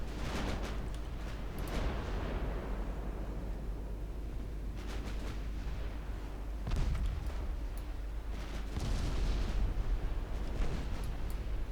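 5-inch secondary guns firing in the naval video game Ultimate Admiral Dreadnoughts: distant, muffled booms come at irregular intervals over a constant low rumble of sea and engines.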